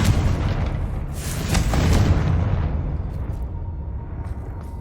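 A Confringo fire spell explodes in Hogwarts Legacy, a loud booming blast that rolls into a long, dense rumble and slowly fades over several seconds.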